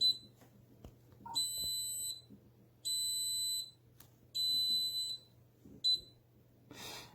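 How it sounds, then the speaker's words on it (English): An Anycubic resin 3D printer wash station beeps a warning with its lid off, giving repeated loud, shrill electronic beep bursts in an irregular pattern over a quiet room hum, with a few faint clicks between them. "it's going to give me a very nasty beep tone."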